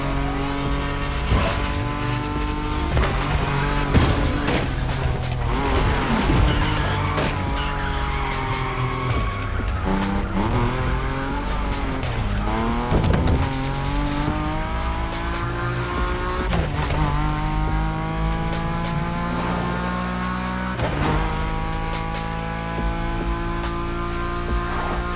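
A BMW M5 Drift Edition drifting in The Crew Motorfest: a loud engine roar with rising and falling revs, and long tire squeals through slides that run continuously for the whole stretch.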